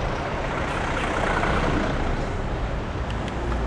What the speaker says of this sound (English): Fair bit of traffic here.